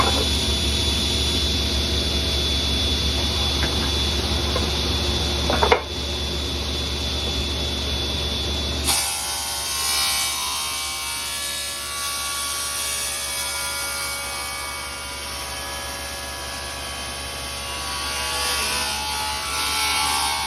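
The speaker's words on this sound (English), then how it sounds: "let me turn on my blower and the saw, make a little noise" Table saw and dust blower running together in a woodshop while cutting wood for a criss-cross bowl, a loud continuous whine and hum that drops in pitch partway through as the load changes, no talk.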